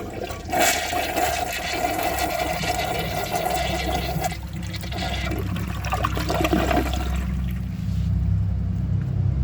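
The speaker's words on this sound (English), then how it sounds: "So now let's see how it does with a second flush" A 1999 Crane Hymont toilet flushes with a loud, continuous rushing of water through the bowl, a steady broadband whoosh that holds for about nine seconds before easing into a gurgling refill.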